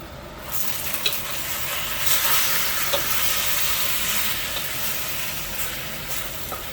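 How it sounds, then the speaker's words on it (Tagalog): Vegetables are stir-fried in a pan with a steady, close sizzle and hiss. Occasional clinks and scrapes from stirring come through, and no voices are heard. "Halu-haluin natin hanggang sa maluto."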